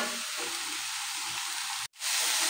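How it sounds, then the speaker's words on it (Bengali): Eggplant pieces and fenugreek leaves fry in a pan while being stirred gently, producing a continuous close sizzle that cuts out briefly and then returns louder. "এবারে কিছু সময় নিয়ে নাড়াচাড়া করব, আস্তে আস্তে হালকা হাতে নাড়তে হবে, না তো বেগুনগুলো ভেঙে যাবে।"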